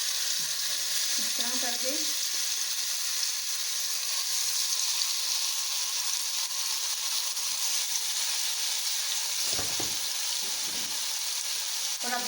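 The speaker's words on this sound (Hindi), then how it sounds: "तो अब जो पीस मैंने मैरिनेट करके रखे हुए थे चिकन के, इसको रखते हैं इसके अंदर" Marinated chicken pieces sizzle steadily in a hot kadhai, a constant loud frying hiss with a few clinks and stirs early on and near the end, and a short spoken phrase at the start.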